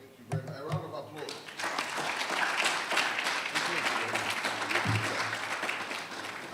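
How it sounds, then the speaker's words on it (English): Applause from the audience at a Ghana Institute of Architects annual general meeting, a warm, steady round of clapping from a room of people that swells after a voice speaks briefly at the start and carries on evenly. "A round of applause."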